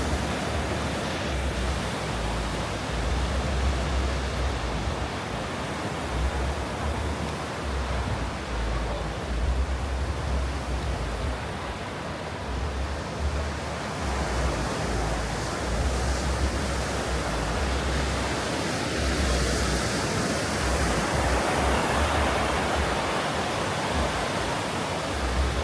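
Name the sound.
sea waves at the end of Blackpool pier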